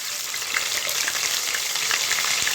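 Whole garam masala and cardamom fry in hot oil in a pan for chicken roast, a loud dense crackling sizzle running steadily throughout with faint stirring clicks.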